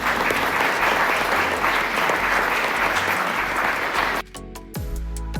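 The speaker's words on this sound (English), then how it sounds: "Let's give these guys a round of applause." A crowd at a faith and work leadership panel gives the guests a loud, sustained round of applause that cuts off near the end, leaving a brief quieter tail of faint sound.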